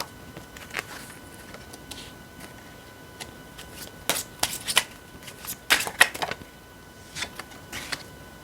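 Tarot cards shuffled and drawn during a reading: soft riffling and flicking bursts, loudest in a cluster of sharp snaps near the middle, close and alone without talk.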